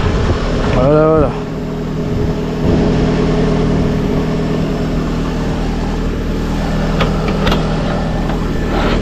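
Lada Priora (2172) car engine idling just after being started with a booster: a steady, close rumbling hum that runs throughout, with a short rising whine near the start and faint background noises.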